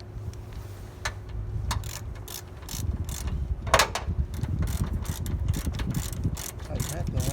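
A socket ratchet tightens the bolt on a Hooke Road hood lift strut kit on a Jeep Wrangler JK, giving quick clicking bursts over a steady low hum with a brief louder clank partway through.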